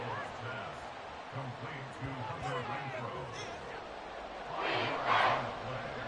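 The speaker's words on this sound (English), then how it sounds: "This crowd turning up the decibel level." Stadium crowd in an American football video game (Madden Ultimate Team) roars steadily beneath a commentator's play-by-play and swells louder near the end.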